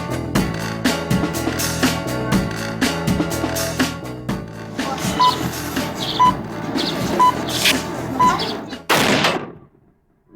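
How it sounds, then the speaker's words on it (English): A noon cannon fires at an old fort overlooking the bay in Vladivostok, now a naval museum: a run of timed beeps over crowd noise leads to a single sharp, loud boom, followed by sudden quiet. "It's an old Russian tradition in naval port cities to fire off a cannon precisely at noon every day."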